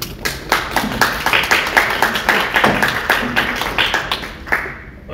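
A group claps steadily in a burst of applause at a public meeting, sharp overlapping hand claps lasting several seconds before tapering off.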